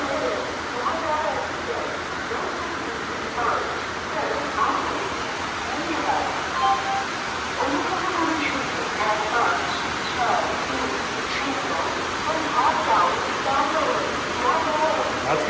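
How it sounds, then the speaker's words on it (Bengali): Heavy rain pours steadily at a railway station, a dense continuous hiss with faint patter throughout, mixed with crowd chatter and voices in the background. "বিভৎস বৃষ্টি হচ্ছে এখানে।"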